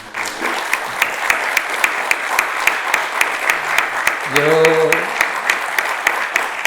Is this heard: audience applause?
yes